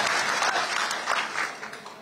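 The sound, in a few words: crowd applauding at a farmers' protest rally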